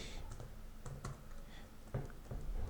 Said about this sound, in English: let me just type in something